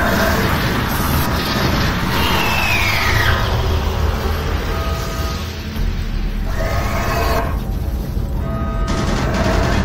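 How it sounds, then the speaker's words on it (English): Automated turret guns in the DOOM video game fire continuously, a loud, dense barrage of gunfire and booms with no clear gaps, close and dominating throughout. "Warning, automated turret guns online."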